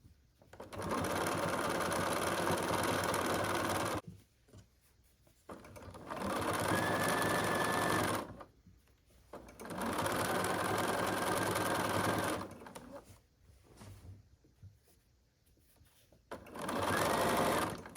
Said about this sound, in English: I'm going to sew my binding to the back of the quilt